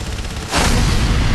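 A heavy turret opens fire in Enslaved: Odyssey to the West with a sudden loud blast. The booming, rumbling barrage starts partway through and keeps going to the end over a lower background of game noise.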